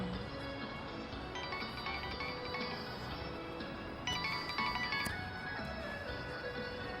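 A phone rings with a melodic electronic ringtone, repeating tonal phrases at moderate volume over a faint room background before the call is answered, with no talking.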